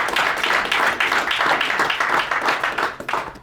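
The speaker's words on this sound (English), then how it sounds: "Wow, you can clap it up for that." A crowd applauds steadily, a dense patter of many hands clapping at once, loud and continuous for a few seconds.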